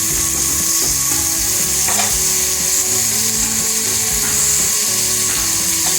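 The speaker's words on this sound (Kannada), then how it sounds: "ಈರುಳ್ಳಿ ಚೆನ್ನಾಗಿ ಫ್ರೈ ಆದಮೇಲೆ ಇದಕ್ಕೆ ಟೊಮೊಟೊನ ಹಾಕ್ಕೊಳ್ಳೋಣ" Onions and tomato fry loudly and steadily in a pan, a dense continuous sizzle overlaid with rhythmic scraping and clacking from stirring throughout.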